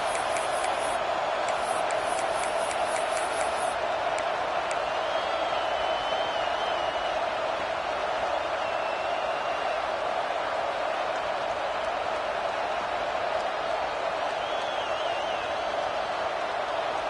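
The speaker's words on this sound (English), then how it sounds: "This crowd ready to make its presence known" Steady broad roar of a large football stadium crowd at a Texas game, a dense continuous wash of massed voices holding constant without peaks or applause bursts.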